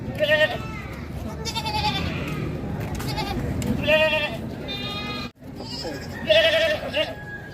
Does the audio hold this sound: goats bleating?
yes